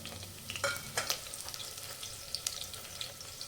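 Slit green chillies fry in hot oil with spices in a pan, a soft close crackle and sizzle broken by light scraping stir strokes and small clinks.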